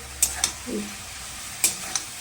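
A few sharp scraping knocks of a spoon stirring water lily stems frying in a pan, spaced irregularly over a soft, steady background hiss.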